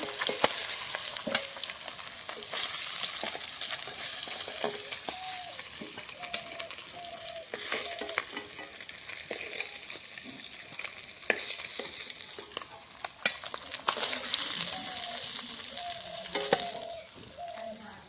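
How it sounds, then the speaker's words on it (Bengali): Pieces of large fish fry in oil in a pan, giving a soft, steady crackling sizzle heard close up, with occasional scrapes and light clinks of a spatula moving through the oil. "বাকি মাছগুলো এভাবে ভেজে নেব।"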